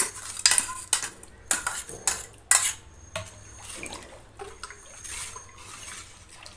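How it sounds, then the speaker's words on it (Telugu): A steel ladle stirs green chilli paste into gram-flour buttermilk in a steel pot, giving close, irregular clinks and scrapes against the metal with a soft liquid swish between strikes and no talking. "గరిటెతో మిక్సీ కప్పులో పోసేసుకొని అంతా కలిపి పోసేసుకోవాలి"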